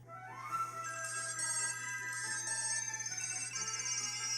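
A phone ringtone plays steadily, with a repeating melodic pattern of bright electronic tones over a low constant hum. No voices are heard.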